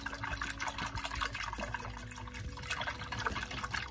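Non-fat milk is whisked together with a quarter cup of oil for a collard green and corn bread batter: continuous wet, busy stirring and sloshing at close range, with no talking.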